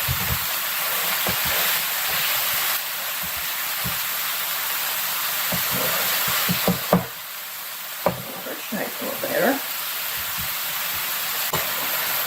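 Burgers made from lean 88-12 ground beef fry in a lightly greased pan, giving a steady close sizzle with scattered pops and crackles throughout and a few louder clicks near the end, with no talk.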